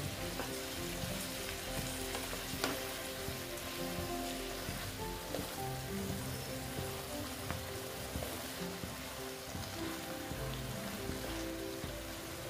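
Bottle gourd greens with poppy seeds, with a splash of water added, frying and being stirred in a pan, a soft continuous sizzle with occasional light scrapes and clicks, steady and fairly quiet with no talk.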